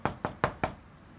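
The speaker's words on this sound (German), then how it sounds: "Dann streckt er die Hand aus und klopft mit angehaltenem Atem." Four crisp, evenly spaced knocks on the front door of a house, close and clear with nothing else around them.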